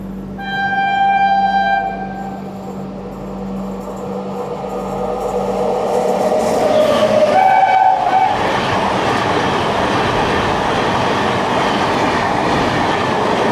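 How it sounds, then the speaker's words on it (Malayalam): The 12678 Ernakulam–KSR Bangalore Intercity Express rushes past on the opposite line, heard from aboard an AC chair car of the Kovai Express: a sustained horn blast, then a loud, close rumble and clatter of passing coaches. "ഓപ്പോസിറ്റ് ലൈനിൽ 12678 Ernakulam KSR Bangalore intercity express വരുന്നുണ്ട്."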